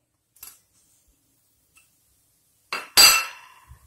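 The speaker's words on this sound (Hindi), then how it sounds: "चम्मच से चलाते हुए सॉफ्ट करेंगे" A spoon stirs mawa in a kadhai, producing a couple of sharp metallic clinks near the end after mostly quiet moments, with one faint tap earlier.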